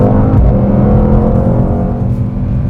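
Mercedes-AMG GT 4-Door (2020) engine pulling hard under acceleration through its 9-speed automatic, a loud, close, rich roar with harmonic rises and a quick gear change, no voices.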